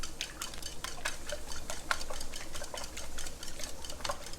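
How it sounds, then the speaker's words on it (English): Eggs being whisked with milk, salt and pepper in a bowl for a breakfast casserole: quick, steady clinking strokes repeat throughout at close range, with no talking. "Okay, so we're gonna go ahead and mix up those eggs"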